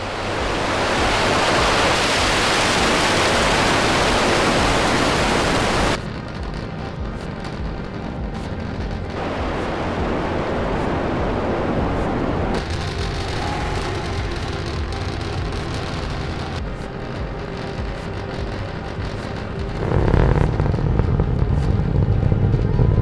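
A SpaceX Starship SN10 rocket lifting off, heard from a distance as a loud, continuous broadband roar with a deep rumble. The roar holds steady throughout and swells even stronger near the end.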